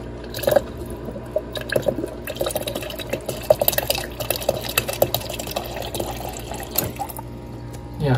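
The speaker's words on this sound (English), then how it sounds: "it drains out right after you put the new filter in" Water draining from a newly installed Whirlpool everydrop refrigerator water filter into a cup, a continuous liquid trickle with scattered drips and small splashes, close by and fairly steady throughout.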